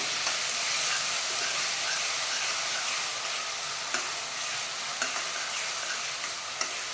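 A paste of ground onion, garlic, dried chilli and salt sautés in a pan, giving a steady, close broadband sizzle with a few light stirring clicks toward the end.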